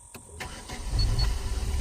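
A Daewoo Nexia 2 with a high-idle fault cranks briefly, then its engine catches and settles into a loud, steady idle up close.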